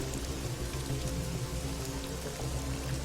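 Steady rain patters and drums on a surface, a dense, even hiss of drops that continues unbroken throughout.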